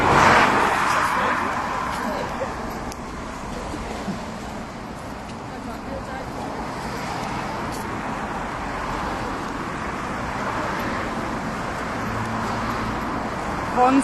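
Cars pass along a road in Carlisle, Cumbria during an evening walk, producing a steady roar of traffic noise that swells slightly at the end, with voices talking throughout.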